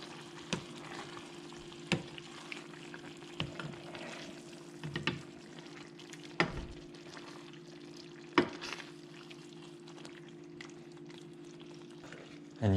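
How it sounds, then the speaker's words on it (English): Ingredients are stirred gently in a cooking pan while flathead catfish is prepared. Quiet scraping strokes land every second or two over a faint, steady low hum and soft simmer. "And just gently stir those in."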